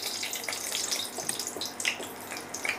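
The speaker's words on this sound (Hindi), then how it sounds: "अब इसमें 4 से 5 लाल मिर्च डालेंगे और इसे फ्राई कर" Four or five red chillies fry in hot oil in a kadai, making a constant close hiss dotted with crackles and small pops.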